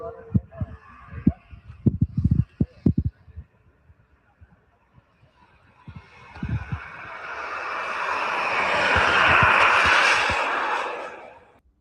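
A small airplane takes off in the distance, its engine swelling into a rising, broad roar that peaks and holds, following a stretch of people talking nearby.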